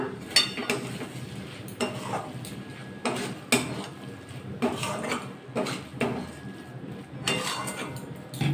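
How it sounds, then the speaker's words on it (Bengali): Metal utensil scrapes and clinks against a pan while red amaranth greens are stirred with ghee after the gas is switched off, coming as irregular bursts of knocks and scraping every second or so, close and fairly clear. "ঘিটা দিয়ে একটু নাড়াচাড়া করে নেব।"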